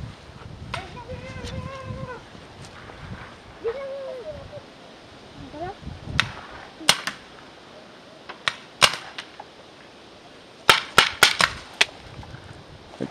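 Paintball markers firing during an outdoor paintball game, sharp snapping shots in sparse singles and quick clusters, some distant, with people talking and a whistle-like call in between.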